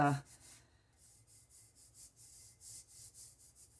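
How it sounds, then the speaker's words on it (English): Acrylic paint skin on a tumbler is rubbed in a steady back-and-forth rhythm, soft, close swishing strokes repeating about every third of a second after a brief voice at the start. "I am going to continue to rub on this"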